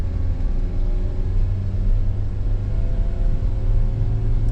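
A manual car pulls away in first gear, its engine giving a steady, loud low rumble that holds constant under the cabin without speech.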